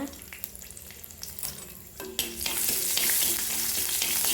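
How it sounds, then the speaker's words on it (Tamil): Garlic cloves drop into hot oil with popped mustard seeds and asafoetida for an avarakkai thokku. After a few soft clinks, a loud sizzle bursts in midway and keeps crackling steadily, close and without talk. "கடுகு பொரிஞ்சதும் இதில் ஒரு 4 பல் பூண்டு போட்டு வறுத்துக்கோங்க."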